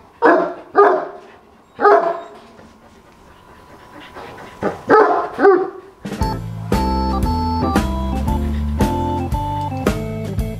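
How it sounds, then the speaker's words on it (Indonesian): A Kangal dog barks several times in loud, close bursts spaced about a second apart, then music with sustained tones takes over. "Nah ini lagi gonggong tuh dibiarin."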